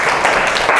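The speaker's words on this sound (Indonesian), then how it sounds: "Tepuk tangan untuk kelompok 1." A classroom audience at a teacher-training session claps for a presenting student group, a brief, steady burst of applause that fills the whole moment.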